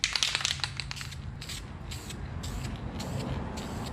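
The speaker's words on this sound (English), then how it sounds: "we'll spray a little bit of the self-etching" Aerosol can of self-etching primer sprayed onto the bare metal of a dented car fender during bodywork repair, heard as several short, quiet hissing bursts in a row, with no talking.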